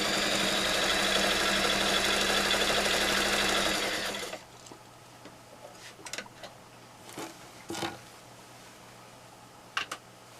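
A sewing machine quilting with a hopping foot runs steadily and loudly for about four seconds, then stops, leaving a quiet room with a few small clicks and handling noises.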